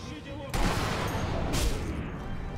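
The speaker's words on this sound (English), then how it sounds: "I saw gunshots at me." Bursts of rapid gunfire in the video game Sniper Elite V2 crackle loudly and continuously, with a sharper volley near the start and another a second later.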